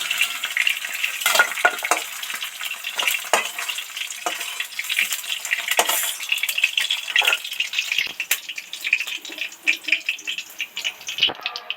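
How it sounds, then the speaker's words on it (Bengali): Fish deep frying in hot oil in a wok for a Bengali fish curry, a steady close crackling sizzle with scattered pops and spatters throughout, no talk. "মাছগুলো তো ধরে ধরে ডিপ ফ্রাই করে ভেজে নিলাম"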